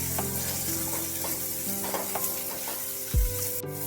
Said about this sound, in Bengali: অল্প পরিমাণে একটু লবণ আর হলুদ দিয়ে পটলগুলোকে আবার একটু নাড়াচাড়া করে দিতে হবে